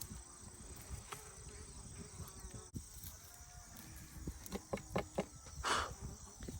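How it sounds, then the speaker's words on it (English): Bees buzz around organically grown garden plants, low and steady with a swell near the end, alongside faint insect chirps and some outdoor rustling. "Covered up in bees."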